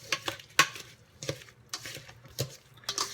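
Tongs toss a spicy cabbage slaw in a bowl, giving a series of soft, wet crunchy rustles and light clicks in uneven bursts, close and quiet.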